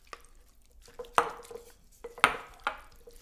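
A spoon works through a vegan macaroni salad with mayo, jackfruit and pineapple, giving soft wet squishes and a few sharp clinks against the bowl in an uneven rhythm.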